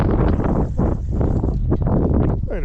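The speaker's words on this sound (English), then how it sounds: "Nice if the wind wasn't blowing so much" Strong wind buffets the microphone at a trout fishing spot, with loud, low rumbling gusts that swell and fade throughout, no talking.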